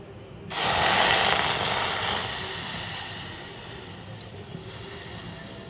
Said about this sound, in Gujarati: હવે છે ને આમાં આ મિલ્ક નાખવાનું છે.